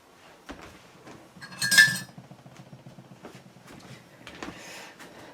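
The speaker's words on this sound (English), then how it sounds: "Let me get a spoon real quick." Metal cutlery clinking and rattling in a kitchen as a spoon is fetched, a few close, bright clinks with one louder jangle of silverware, then quieter clatter.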